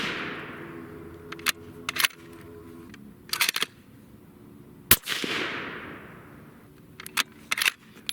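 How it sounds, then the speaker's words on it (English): Custom 6.5 Creedmoor bolt-action rifle firing 140 grain Sierra MatchKing factory ammo on a range: a few sharp, loud cracks, each trailing off in a rolling echo, with clicks and handling noise between shots. "I actually felt a lot of movement on that shot"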